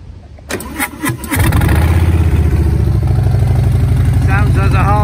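A 2019 Harley-Davidson Sport Glide motorcycle cranks over and fires up, then settles into a loud, steady, lumpy idle close by, with a brief voice at the start.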